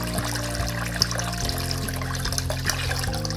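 A Tunze Osmolator 3155 top-off unit refills a reef aquarium tank, water trickling and dribbling steadily under a loud, continuous mechanical hum with a few faint clicks.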